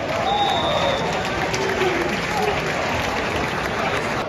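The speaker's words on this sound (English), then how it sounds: "He gets a round of applause, 43 minutes in." Football crowd in a stadium applauds in a steady, dense wave of clapping that lasts several seconds, with faint shouts mixed in.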